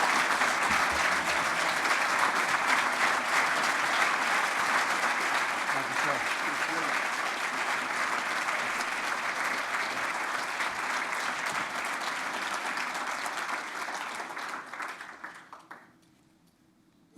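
A large audience at the 2019 Civil Society Awards applauds the award winners, a sustained, full round of clapping with voices beneath it that tapers off near the end.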